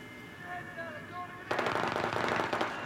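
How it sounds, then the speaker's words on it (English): Rapid gunfire in Battlefield 3 breaks out suddenly as a dense crackling burst of shots, loud and close, after a quieter stretch of background game tones. "They threw a perfect nade right at my body."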